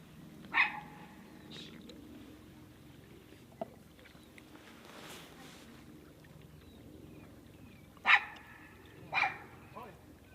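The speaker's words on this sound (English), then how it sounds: "It's an extremely loud dog for such a small dog." A small Jack Russell terrier barks outdoors near a trail, a few sharp barks early on and then a quick pair later, fairly near and loud over quiet background with people talking.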